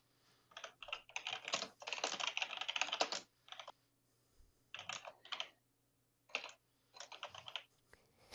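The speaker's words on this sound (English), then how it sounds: "Pardon the keyboard." Rapid bursts of computer keyboard typing during a PC gaming tournament broadcast, clattering in clusters separated by short pauses, close and fairly quiet, with no talk.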